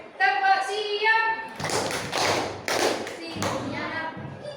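Schoolchildren in a classroom do a rhythmic clapping chant, voices chanting in a sing-song pattern then giving way to a few loud, uneven claps and thumps close by.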